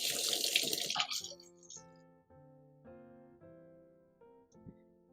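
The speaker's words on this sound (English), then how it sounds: "And let me just wash my hands." Tap water runs briefly in a Vermont farmhouse kitchen sink as hands are rinsed, then cuts off and soft, sustained music carries on alone.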